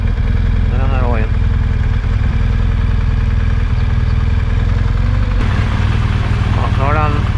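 A motorcycle with a recurring fault idles with a steady, low chugging drone, close and constant throughout, while someone talks over it.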